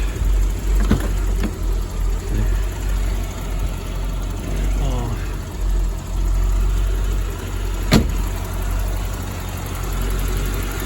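A pre-88 C4 Corvette with original parts idles below 1,000 rpm, giving a steady low rumble close by with a few sharp clicks, and a voice speaks over it.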